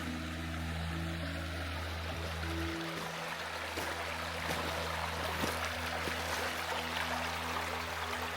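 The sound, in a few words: small river rapids flowing, Sunshine Coast Hinterland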